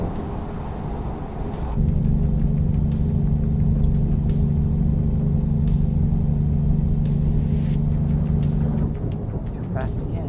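Volvo truck engine in the American Truck Simulator game, a steady droning low hum held for several seconds after starting up, with a faint background under it.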